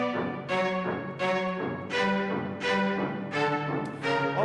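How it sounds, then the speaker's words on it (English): Short string phrase from a song's verse orchestration, repeating rhythmic bowed chords in a steady offbeat vamp pattern, about six even pulses with sustained harmonic tones, no voices. "there's a little string vamp in the verse. It sounds like this."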